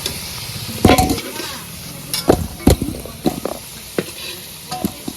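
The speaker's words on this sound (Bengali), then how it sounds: "আলুটাকে ভেজে নেব সুন্দর করে আলুটাকে ভেজে নিছি" Potatoes fry in mustard oil while a utensil stirs and scrapes the pan, with soft sizzling underneath and several sharp knocks and clatters spaced irregularly across a few seconds, no speech.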